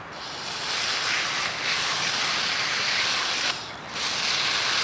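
Pressure washer in angle mode blasting a bicycle's chain rings, a loud continuous hissing spray that briefly cuts out twice and resumes, with no talking over it.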